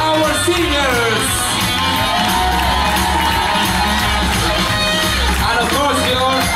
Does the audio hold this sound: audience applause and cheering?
yes